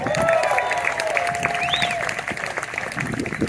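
Outdoor cinema preshow crowd at an anniversary roadshow screening breaks into steady applause with scattered cheers and whistles, continuous and fairly close throughout.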